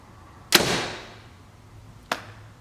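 A 360 grain arrow shot from a Prime Black 5 compound bow, with a sharp close release and a fading hiss, then a second crisp impact about one and a half seconds later.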